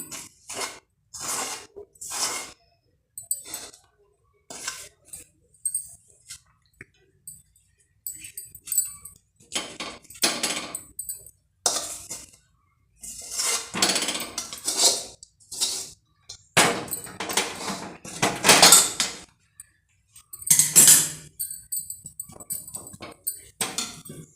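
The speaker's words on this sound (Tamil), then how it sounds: "இப்போ பாருங்கள் நான் வந்து இந்த தோசைக்கல்லில் கொட்டிட்டு இது சூடாக இருக்கிறப்பே நம்ம தேய்ச்சிடணும்" Peanut burfi mixture being poured onto a hot dosa pan and spread while still warm, heard as intermittent metallic scraping and clinking in short bursts separated by near silence, close up.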